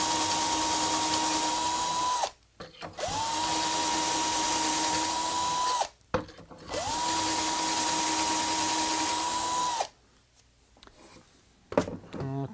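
A drill bit bores a hole in a wooden ski, three long steady whining runs broken by short pauses, close and loud, followed by quiet handling noise.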